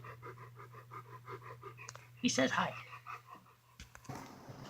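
A dog pants with quick rhythmic breaths close by, followed by scratching and rustling, while someone speaks softly over it.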